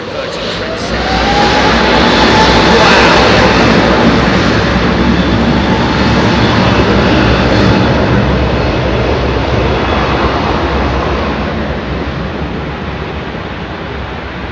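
A Virgin Atlantic Airbus A330neo jet at Heathrow, a loud, close, heavy engine roar that builds quickly, holds as the aircraft passes, then slowly tapers off.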